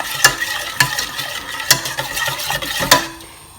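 Scrambled egg being stirred in a pan, a spatula scraping the pan in several distinct strokes over a soft sizzle, close and clear with no talking.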